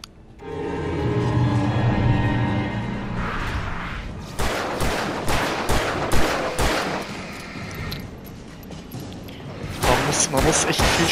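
Gunfire in the video game Alan Wake, rapid bursts of shots after a few quiet seconds, loud and close, with a pause before more shots near the end.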